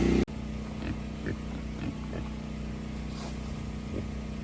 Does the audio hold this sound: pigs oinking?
yes